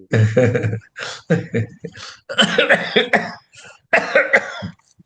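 Several harsh coughs in bursts, close to the microphone, separated by short pauses, with some throat clearing.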